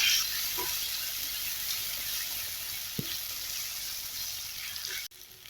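Soft steady sizzling of onion and tomato sautéing in a pan, a low continuous hiss with a few faint clicks and taps, no voices.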